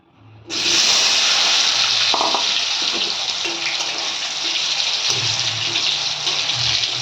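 Turmeric-coated potato pieces drop into hot oil with a sudden loud sizzle that holds as a steady, close hiss with faint crackles throughout.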